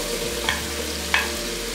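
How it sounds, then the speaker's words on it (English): Leeks and garlic fry in olive oil in a pan, a faint, steady sizzle running underneath with two brief clinks of stirring. "So we add some olive oil, and then we're going to put in our leeks that we've washed, and we also add our garlic."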